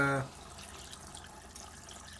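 Cold clean water is poured into a pot of chicken soup, a faint, steady liquid wash that follows a brief louder sound at the very start.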